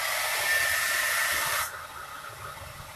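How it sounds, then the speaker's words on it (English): A hair dryer blows on a Chalk Couture transfer, a loud, close steady whooshing hiss that cuts off abruptly partway through, leaving quiet room tone. "Let me get that up so I can blow dry that"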